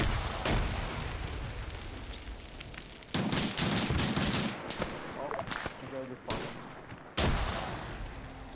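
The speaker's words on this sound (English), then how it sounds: "they're fucking throwing grenades over each other" Grenades burst during a Winter War multiplayer game, with several sharp, loud blasts at irregular intervals among ongoing gunfire and battle noise, while players talk over the action.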